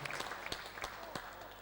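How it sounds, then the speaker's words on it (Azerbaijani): Wedding guests applaud together in a brief, faint patter of clapping, with scattered sharper claps standing out from the steady wash of hands. "Hamı bir yerdə alqışlayaq, yəni varlıqların atalarını."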